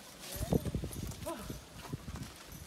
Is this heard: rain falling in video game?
no